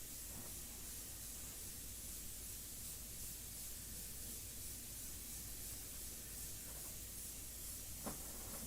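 Airbrush spraying a medium mixture of India ink in a couple of even coats, a steady unbroken hiss of air running throughout at moderate level, with a faint click near the end.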